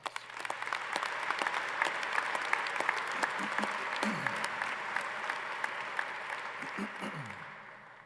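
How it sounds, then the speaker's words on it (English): A large crowd at a University of Idaho winter commencement applauds the graduates in a broad, continuous wash of clapping. It holds steady for about eight seconds with brief voice fragments underneath, then fades at the end. "Let's give them a round of applause"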